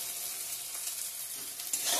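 Chopped green chili sizzles and fries in a hot pan with oil while a chicken curry is being cooked, a steady close crackling hiss that swells briefly near the end as stirring begins.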